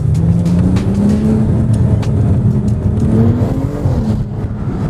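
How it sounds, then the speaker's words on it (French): A BMW 335i with a dual-clutch gearbox accelerating hard, its loud, close engine note climbing steadily through the revs with turbo whoosh on top, a continuous strong roar throughout with no talking. "Et on entend vachement le turbo aussi."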